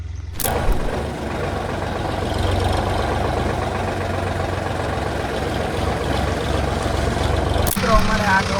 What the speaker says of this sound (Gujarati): ના છે અમારું ટ્રેક્ટર સોનાલિકા તો હાલો આપણે લઈને જવાનું છે ટ્રેક્ટર